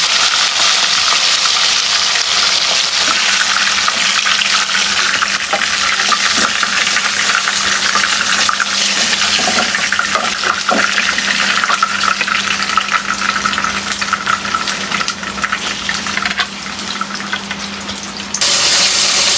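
Rupchanda pomfret fish frying in hot oil in a pan make a loud, steady sizzle that holds without a break, bright and hissing throughout, with no talking.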